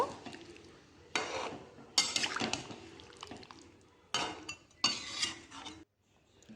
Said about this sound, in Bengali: পরিমাণ মতো জল। ভালো করে মিশিয়ে নেব।